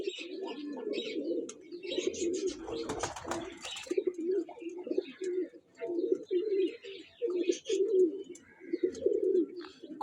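Flying pigeons, kept for sale at a pigeon club, coo in a continuous run of low, throaty calls with occasional chirps, close and fairly loud throughout.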